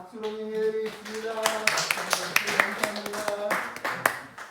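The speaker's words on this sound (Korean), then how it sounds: "박수로 인해드리겠습니다." A church congregation at a Wednesday special service claps along, a run of crisp hand claps under a sustained tone and a voice.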